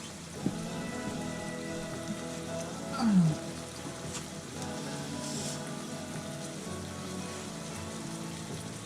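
Water pours steadily into a pot while soup is being made, a continuous splashing rush that stays even for several seconds, with no talk over it.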